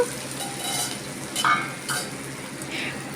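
Curry leaves and softened onions frying in a pan for a bean and tomato curry, a steady close sizzle with a few brief stirring scrapes and pops, no talking.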